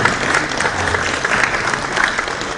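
An audience at a conference event applauds steadily throughout, dense continuous clapping from a sizeable crowd.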